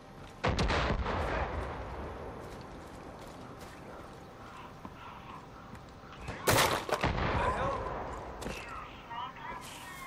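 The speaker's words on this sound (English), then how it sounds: "Someone's shooting way down there." Bursts of distant gunfire in the video game Far Cry 5, two heavy booming volleys a few seconds apart with scattered shots and rumbling in between.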